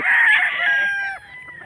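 A bolik rooster at a chicken market lets out one loud, close crow that holds steady and then trails off near the end.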